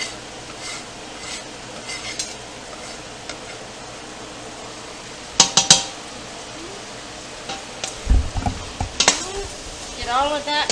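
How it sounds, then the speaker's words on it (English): Carne caldo ingredients with diced garlic get stirred in a pot, a spoon scraping and clinking against the metal in short bursts over a faint steady background hiss. "Get all of that stirred together."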